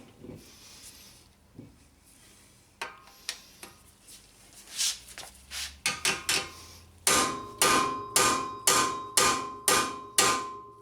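A hammer strikes an impact tool to break loose rusted Honda brake rotor screws, a series of sharp metallic blows that start scattered and quiet, then turn into a fast, loud, regular run of ringing hits, close by.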